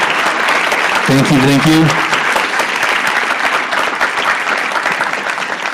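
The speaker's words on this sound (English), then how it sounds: "can you give them a big round of applause?" Big round of applause from a crowd at a political rally in Halifax, Nova Scotia, loud and sustained throughout, with someone briefly speaking over the clapping near the start.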